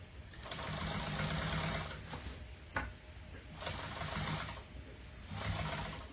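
A sewing machine runs straight seams on a marine upholstery boat cover, in three close bursts of rapid mechanical stitching separated by short pauses and a sharp click, with no voices.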